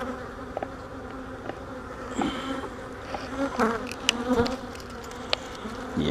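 Honey bees buzz steadily in an opened hive during a spring inspection, a close, continuous insect drone with scattered louder passes as individual bees fly near, and no talking.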